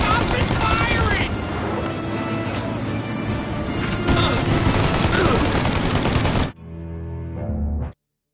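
Rapid gunfire bursts and crashes from an in-game shootout in Mafia: Definitive Edition, dense and loud for most of the stretch with a shouted voice over it, then cutting to a quieter lull near the end.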